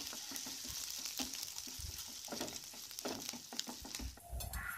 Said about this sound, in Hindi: ऑयल जब हीट हो जाए तो इसमें डालें गार्लिक, जिंजर, हरी मिर्च और इसे लाइट फ्राई कर लें